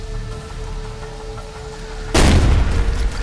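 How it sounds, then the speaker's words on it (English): A frag grenade going off in Ghost Recon Future Soldier: a sudden loud blast after a quiet moment, with a deep boom and a crackling rumble of debris that lasts about a second. "Frag on the way."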